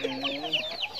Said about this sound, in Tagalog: Ito po sa kanilang area, napakaraming manok guys.